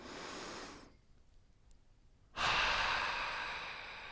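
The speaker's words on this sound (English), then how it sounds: "Take another deep awareness breath." A slow, deep inhale fades into a quiet pause, then a strong, close exhale rushes out during a mindful mobility breathwork session, soft and audible with no speech.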